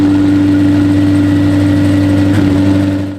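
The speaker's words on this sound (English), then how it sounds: "He will start the engine for the first time after 2 months of operation." A McLaren 720S V8 engine runs after crash repair, a loud, steady low idle drone with strong tonal hum that holds evenly, then cuts off abruptly at the end.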